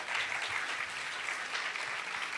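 Loud, steady applause from a church congregation welcoming a pastor to the stage at Agape Church in Lahore, dense clapping filling the whole stretch without a break.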